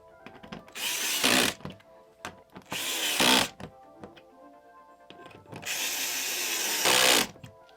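A power drill drives screws during an erPODs installation in three separate bursts of whirring, each a second or two long and ending in a brief strained rise, with quiet handling in between.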